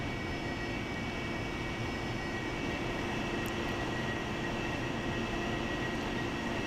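AV-8B Harrier jet engine in the DCS flight simulator during a VTOL training flight, a steady loud broadband whine and rumble with no change in level, heard alone.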